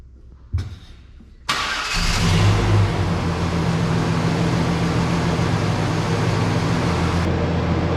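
A GMC Sierra Stepside truck engine cranks briefly and catches, then settles into a steady, loud, close idle that runs continuously to the end.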